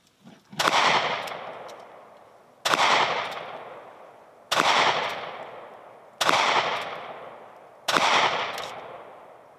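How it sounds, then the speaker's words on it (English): A North American Arms Pug revolver in .22 Magnum fires five shots at a target 18 yards away, each loud crack about two seconds apart and followed by a long echoing tail. "Let's do another 5 shots. Long range, 18 yards, 22 Magnum, North American Arms Pug."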